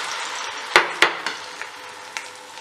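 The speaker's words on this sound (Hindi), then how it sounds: "हम इसके अंदर ये प्याज और टमाटर का पेस्ट डाल देंगे" Onion and tomato paste for karhi sizzles and fries in a pan, with a few sharp clinks and knocks from a utensil against the pan, close and fairly soft.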